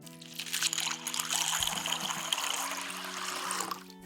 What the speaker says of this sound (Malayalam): ഇനി ഇതിലേക്ക് രണ്ട് കപ്പ് വെള്ളം ഒഴിച്ച് ഇത് കുതിർക്കാനിടണം